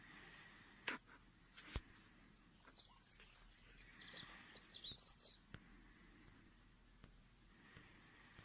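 Birds sing faintly outdoors, with a cluster of high chirps and warbles in the middle, a few isolated calls elsewhere and a couple of soft knocks, all at a distance.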